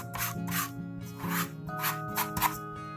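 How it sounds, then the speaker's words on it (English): A rubber smoothing tool rubbed across canvas to flatten a collaged piece, giving repeated close scraping strokes in a steady back-and-forth rhythm, with no talking. "You'll see I'm just kind of rubbing that out, getting that to lay flat onto the canvas there."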